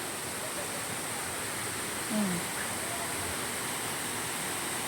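Ton Nga Chang waterfall near Hat Yai, Songkhla: a steady, even broadband rush of falling water runs unbroken throughout, with one brief soft swell midway.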